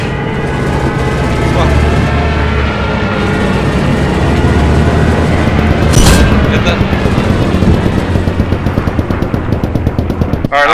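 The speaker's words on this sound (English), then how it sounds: "Aircraft coming in on us." An aircraft attack in the World War II shooter Post Scriptum, The Bloody Seventh alpha: loud, continuous rapid gunfire rattles throughout, with a heavy boom near the middle.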